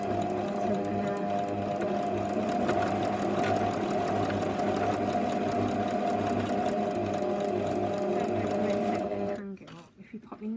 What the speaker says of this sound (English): So we're going to start by sewing a bit.